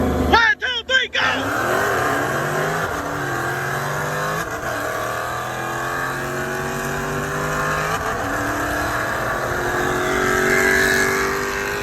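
A Dodge Scat Pack with the 392 engine races hard, its loud exhaust roaring as it climbs through repeated gear shifts, each shift breaking the drone before it rises again. A voice shouts briefly near the start.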